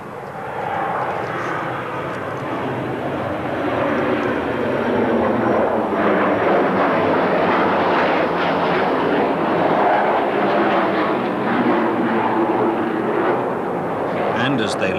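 An English Electric Canberra jet roars past at an air show, a broad, loud rushing engine noise that swells and holds steady, with a narrator speaking over it.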